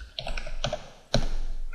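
A few quick keystrokes on a computer keyboard, soft clicks spaced irregularly in a quiet room.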